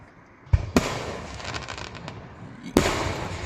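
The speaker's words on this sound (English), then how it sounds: "whoa, that was the biggest bomb in the world." Fireworks bursting outdoors at a fireworks night, a few loud booms followed by sparkling crackle, then another strong bang near the end.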